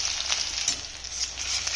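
Onion and cumin fry in hot oil for a tadka for an aloo shimla mirch sabji, giving a steady, close, bright sizzle with small crackles and occasional soft stirring clicks.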